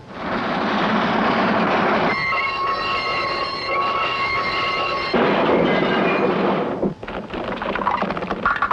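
A train rumbling past close by, loud and steady, with rattling wheels and a screeching metallic squeal partway through.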